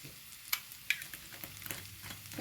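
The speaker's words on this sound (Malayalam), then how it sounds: "ലേശം വെളിച്ചെണ്ണയും കൂടെ അങ്ങോട്ട് ഒഴിച്ചു കൊടുക്കാം" Coconut oil sizzles faintly in a frying pan where a coastal vegetable-and-prawn stir-fry is cooking, with soft crackles and a few sharp pops and utensil clicks close by, and no talking.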